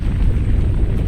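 A loud explosion rolls out as a deep, continuous rumbling roar that stays heavy and even for about a second, with no voices over it.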